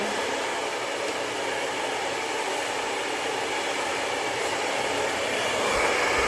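A hair dryer blows continuously while drying hair after a keratin smoothing treatment, a steady close airy roar that holds evenly throughout and swells slightly near the end.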